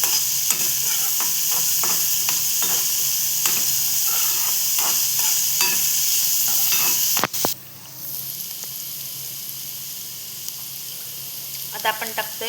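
Onion sautéing in a pan for a Marathi village meal, a loud continuous sizzle with repeated scraping stirs, briefly broken by a knock before the frying hiss resumes more softly.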